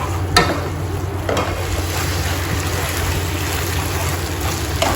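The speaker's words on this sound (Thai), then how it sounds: "แล้วก็ผัดให้เข้ากันเลยครับ" Wide rice noodles for a vegetarian pad see ew stir-fried in a hot pan, a loud continuous sizzle with periodic scraping and tossing strokes, close up.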